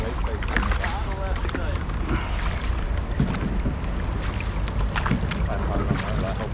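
A boat is paddled through reeds near Enniskillen, giving continuous close splashing and rustling with wind noise over the microphone, steady and fairly loud throughout.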